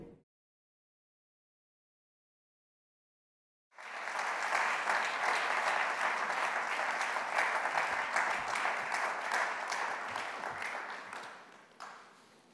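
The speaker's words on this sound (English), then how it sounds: "thank you for the warm introductions and the applause" An audience bursts into sustained applause in a hall after a period of silence, a dense, loud wash of clapping that holds steady for several seconds before tapering off.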